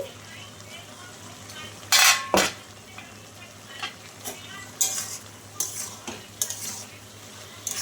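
Ridge gourd and potatoes fry in a covered pan with a soft, steady sizzle under a few sharp clinks and scrapes of a utensil against the pan, close and moderately quiet.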